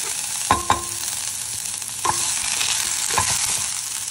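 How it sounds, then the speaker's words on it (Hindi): Onions go into hot mustard oil with mustard seeds and fry with a steady sizzle. Three distinct stirring scrapes, each with a knock of the spoon, land about a second and a half apart, and no one speaks. "नेक्स्ट इसके अंदर मैं डालूंगी मेरे प्याज."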